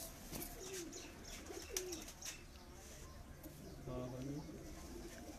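Pigeons in a rooftop loft coo in soft, low, rolling calls, several separate phrases near the microphone, with faint chirps and background noise around them.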